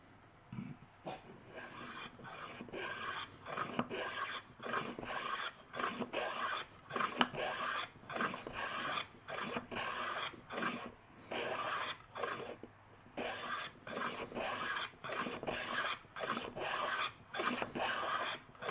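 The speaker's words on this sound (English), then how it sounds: "It's a good sound, a sharp blade on wood." A sharp blade shaves wood in steady, repeated rasping strokes. Each pass is a close, even scrape with short gaps between them, and the rhythm keeps up throughout.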